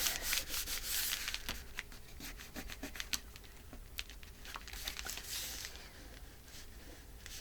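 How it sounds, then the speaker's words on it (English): A fingertip scraping excess glue off paper edges on a handmade journal page, a soft continuous rubbing and scratching with short repeated strokes, close and quiet. "You can scrape your finger along the edges and that'll pull up the glue that's sitting right on the edges."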